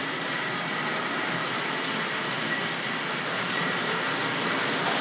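A Hornby Class N15 model locomotive pulls Southern coaches along a model railway, giving a steady whirring, rattling rumble with faint rhythmic clicks that holds at an even level throughout.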